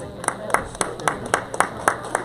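Networking meetup audience clapping in unison, about nine sharp, evenly spaced claps in a quick steady rhythm, moderately near in a room with faint background chatter.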